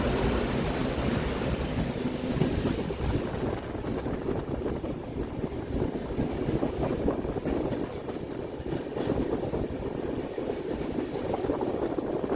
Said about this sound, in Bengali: অন্ধকারে কিছুই দেখা যাবে না শুধু জলের আওয়াজই শুনতে হবে